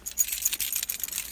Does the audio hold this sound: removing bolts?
no